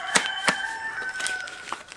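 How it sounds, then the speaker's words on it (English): Chickens clucking outdoors, a few short sharp calls in quick succession, fairly close and without talk. "The chickens gave their sound of approval"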